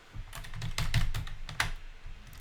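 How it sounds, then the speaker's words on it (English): Rapid, irregular keystrokes on a computer keyboard with a sticking shift key, close and crisp, with a few louder clacks among the quicker taps and no talking. "Crazy keyboard."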